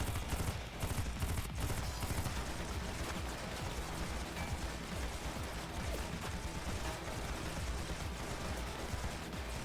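Rifle gunfire in the video game AI: The Somnium Files, a dense continuous volley of rapid shots under a constant mechanical clatter, fairly faint and unbroken from start to finish.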